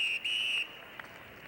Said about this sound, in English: As the half-time whistle goes